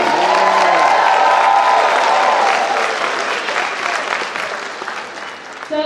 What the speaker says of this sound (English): I just want to give her a little round of applause.